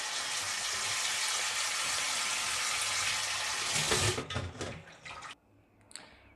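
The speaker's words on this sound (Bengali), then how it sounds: "এবারে একটু ঠান্ডা জল দেব।" Cold water streams steadily from a tap over drained pasta sitting in a colander, a loud continuous rushing splash that breaks up and stops, leaving a few faint drips.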